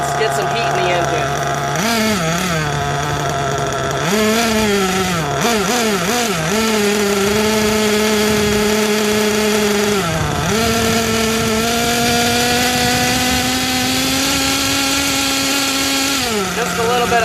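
A small nitro RC engine buzzing loudly and revving in repeated short throttle blips, its high whine rising and dipping several times before holding a steadier pitch, close to the microphone.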